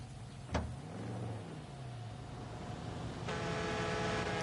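A truck driving along a road in the video game Far Cry 6 gives a steady, moderately loud engine drone with a brief sharp knock near the start and a slightly brighter hum toward the end, with no talking.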